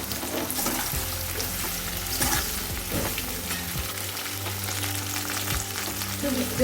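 Cut taro stolons sizzle and crackle as they fry in a pan for a Bangladeshi coconut-milk dish, a continuous close frying hiss with light stirring clatter and no voices.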